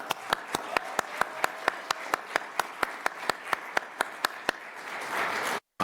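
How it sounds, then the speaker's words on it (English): A small audience at a county board hearing claps for an election registrar, the individual claps sharp, evenly spaced and distinct, a few hands over a quiet room, ending with a brief rustle. "Would you please stand for a round of applause?"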